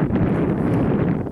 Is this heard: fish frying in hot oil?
no